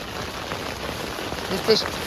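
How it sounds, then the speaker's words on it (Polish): Heavy rain drums on a tent in the Caucasus mountains, a dense, steady patter close overhead with a slightly louder burst near the end. "Wszystko mokre, śpiwór przemógł trochę, materac przemógł trochę, nadupcza deszczem"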